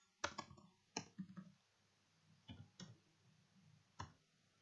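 Scattered clicks of computer keys being typed, a few quick taps in small bursts with gaps, close and quiet with no talk.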